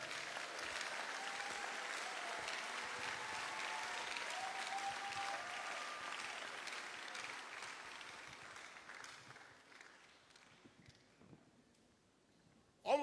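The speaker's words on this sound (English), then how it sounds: "Come, you are not clapping like you are happy." A church congregation claps together in sustained applause, loud and steady at first, then gradually thinning and fading toward near quiet.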